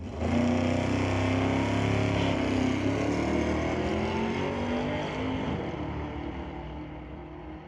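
Chase McKenzie's repaired drag race car makes a pass down the track, its engine a loud, rising roar that swells early and then fades gradually as the car pulls away into the distance.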